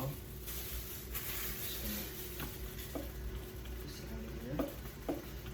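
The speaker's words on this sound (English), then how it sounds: "now what we're going to do is we're going to go ahead and give this a mix" Soft scraping and stirring of French dip sandwich filling in a slow cooker, with a few light clinks of a utensil against the side, steady and close.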